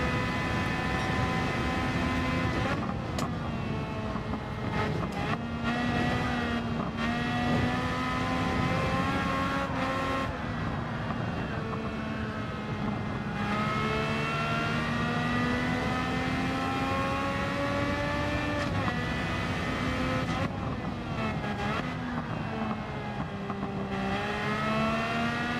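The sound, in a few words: race car engine revving in video game Gran Turismo 7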